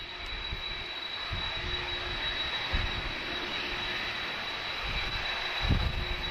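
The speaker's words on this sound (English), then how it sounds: "this wonderful sound of the CF6 engines in front of me here" A steady, loud roar of departing airliners' CF6 jet engines at Lisbon Airport fills the whole stretch, with a constant high whine riding over the rumble and no talking.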